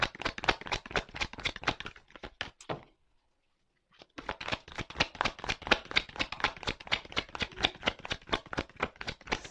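Oracle cards are shuffled by hand in quick, rhythmic riffling bursts, loud and close, with a brief pause of silence before the shuffling resumes. No one speaks.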